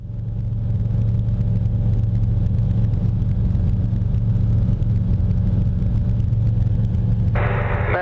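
A Piper Cherokee light aircraft taxis back toward the runway with its engine droning steadily and loudly at low speed. A brief higher-pitched noise joins in just before the end.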